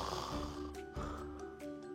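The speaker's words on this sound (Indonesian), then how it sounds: "terus ngorok lagi" A sleeper with sleep apnea snores in rough, rattling breaths. A long drawn snore is followed by shorter snorting bursts, close and fairly quiet.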